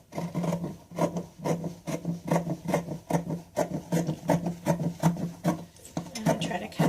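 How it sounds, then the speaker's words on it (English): Scissors cut through fabric for a 12 by 5 inch hair bow, a steady series of close rhythmic snipping strokes about twice a second, fairly loud with no talking. "I'm going to try to cut as straight as I can."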